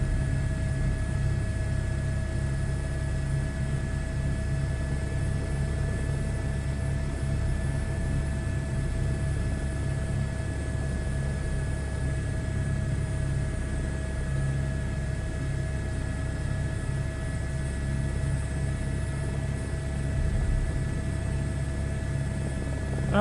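A steady, loud drone of a helicopter in a VR flight game settling onto a runway, with a continuous rotor and engine hum and sustained tonal whine, unchanging throughout and with no talk.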